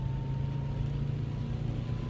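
A 2011 Subaru WRX with a COBB exhaust cruising in second gear at about 3,000 RPM, a steady low engine drone heard from inside the car in rain, brief and moderately quiet.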